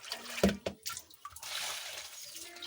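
Water splashing and running while feet are washed: a sharp splash near the start, then irregular sloshing and a steadier pour, close by and fairly quiet, with no talking.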